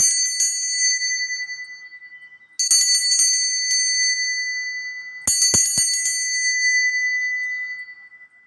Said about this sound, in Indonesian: sini kita akan melanjutkan dengan ditandai lonceng berbunyi.